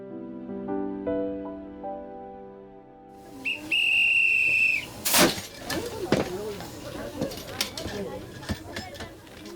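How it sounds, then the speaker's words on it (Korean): A puffed rice popping machine at an outdoor market lets out a shrill, hissing whistle, then a sharp, loud bang, followed by people talking nearby. "요란스러운 뻥튀기 소리가 시장 안을 들썩이게 합니다."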